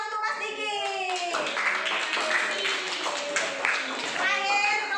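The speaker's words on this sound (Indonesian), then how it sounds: "beri tepuk tangan untuk Mas Diki" Schoolchildren in a classroom clap for a classmate, a brief patter of hand claps mixed with overlapping young voices chattering throughout.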